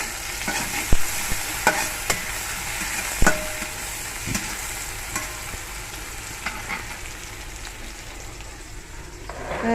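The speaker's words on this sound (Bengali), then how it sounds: "আসলে পেঁয়াজ কুচিটা হালকা ভেজে নিলে ভালো হয়" Chopped onion fries lightly in oil in a clay pot, giving a soft, steady sizzle with occasional stirring scrapes and clinks, close and moderately quiet.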